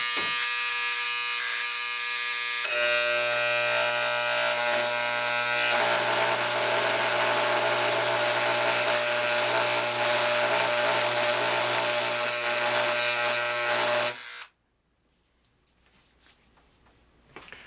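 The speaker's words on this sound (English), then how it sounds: "I'm going to take my engraving tool, because when we're done polishing this, there's not going to be an arrow there" A cheap Harbor Freight electric engraving tool buzzes loudly and continuously as it engraves a Kawasaki motorcycle brake disc, holding a steady whine for about fourteen seconds before switching off into near silence.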